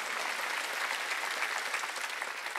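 Steady applause from a church congregation during a service, dense and continuous clapping filling the room without pause.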